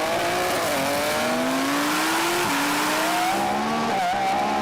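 A car pulls hard in a rolling drag race from about 40 mph in second gear, its gearbox in manual mode with sportier settings. The engine howls loud and close, pitch climbing steadily with a couple of shifts breaking the rise.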